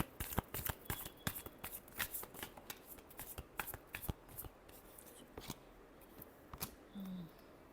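A deck of tarot cards shuffled by hand, close and quiet, with rapid irregular riffling snaps and flicks in bursts, followed by a brief pause.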